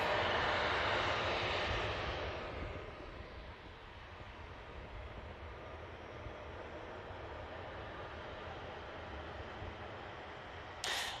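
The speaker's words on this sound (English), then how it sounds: "a positive climb for the Egypt Air as the gear gets retracted into the fuselage of the aircraft" Egypt Air airliner climbing out after takeoff at Manchester Airport with its landing gear retracting, a loud broad engine roar that eases after a couple of seconds into a steady, more distant drone.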